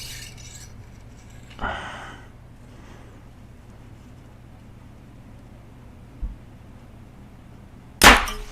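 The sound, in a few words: compound bow arrow shot through paper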